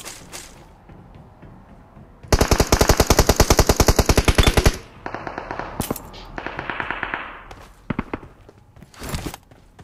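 Gunfire in the PUBG Mobile video game: a loud rapid automatic burst of about two seconds, then a quieter string of shots and a few scattered single cracks.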